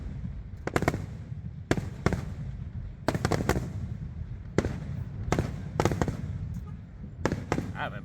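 Fourth of July fireworks bursting outdoors in a steady run of sharp, loud cracks and pops, some in quick clusters, over a constant background of crowd and street noise.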